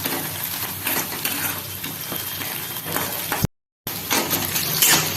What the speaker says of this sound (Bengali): ডিম প্রায় ভাজা হয়ে গেল দেখো পুরো লাল হয়ে গেছে